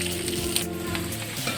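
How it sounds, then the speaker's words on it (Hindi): Okra shallow-frying in oil in a wok over low heat gives a steady, close sizzle with soft crackling throughout, while a low hum continues in the background. "देखिए हल्की हल्की आग पर बहुत अच्छे तरीके से भिंडी फ्राई हो चुकी है।"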